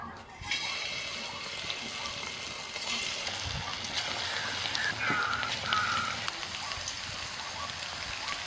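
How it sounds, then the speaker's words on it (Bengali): Marinated chicken frying in hot oil over a low flame, a steady dense crackle and sizzle that holds throughout, close and moderately loud, with a few brief faint clinks. "একদম হালকা জালে আস্তে আস্তে করে ভাজবো তাহলে ভিতর থেকে ভালোভাবে চিকেনটা ভাজা হবে"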